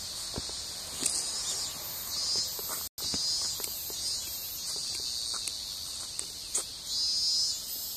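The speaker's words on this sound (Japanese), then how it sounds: "セミも鳴いてます。" Cicadas sing outdoors on a sunny morning in a continuous high-pitched shrill drone, with scattered soft taps and rustles nearby.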